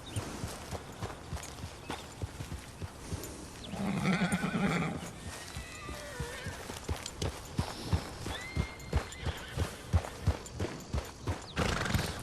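A horse named Clutch in Red Dead Redemption 2 gives a loud whinny midway, set against steady clip-clop hoofbeats that continue in an even walking rhythm from start to finish, close and clear, with no speech.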